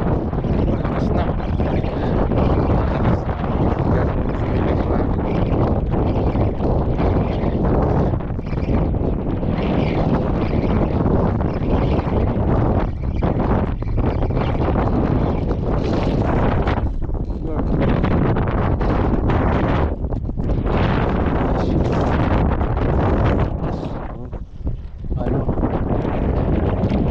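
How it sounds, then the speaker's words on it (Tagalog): Strong sea wind buffets the microphone in a steady, loud roar throughout a micro jigging fishing trip on a boat, with faint voices now and then beneath the rumble. "Naghahangin-hangin na."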